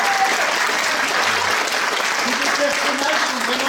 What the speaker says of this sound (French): vraiment on peut les applaudir très fort.